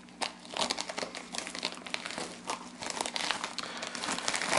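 A card deck package being cut open without a knife, its plastic wrap crinkling and tearing loudly and continuously up close for several seconds.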